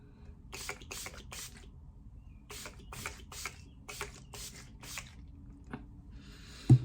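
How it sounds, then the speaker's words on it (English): Short, hissing bursts of makeup setting spray onto a face repeat in quick clusters, fairly close and soft, with quiet pauses between groups. "So I'm gonna spray myself."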